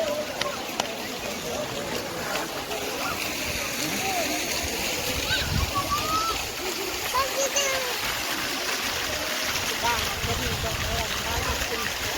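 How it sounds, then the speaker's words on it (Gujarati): Water fountains splash and patter steadily at a lake in Bhavnagar, a continuous spraying wash heard throughout with a voice and other people faintly audible around it. "જો પાણીના ફુવારા સરસ મજાના છે મિત્રો"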